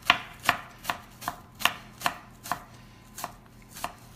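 A knife chops finely across an onion half on a cutting board, with about ten crisp, evenly spaced strikes close up and no one talking.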